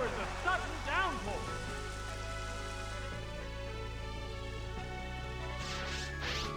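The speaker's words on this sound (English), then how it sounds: "Still going to get the Rain Dance off." Rain Dance's rain effect in Pokémon Stadium 2 plays as a steady, hissing downpour that fills the scene, with chirpy game tones early on and a voice talking over it.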